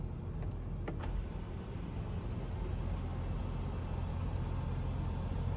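Power sunroof on a 2021 GMC Yukon SLT 5.3 sliding open, a steady motor whir inside the cabin after a couple of soft clicks, over a low engine hum.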